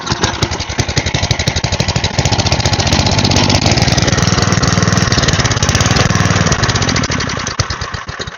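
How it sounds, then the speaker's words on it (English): A small gasoline engine from a go-kart project runs with the choke off, a loud, close, rapid lawnmower-like putter that swells in the middle and rises and falls unevenly, suggesting a carburetor needing cleaning. "Maybe I turn the choke off"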